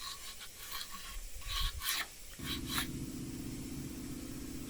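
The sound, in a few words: sanding alabaster stone sculpture with folded sandpaper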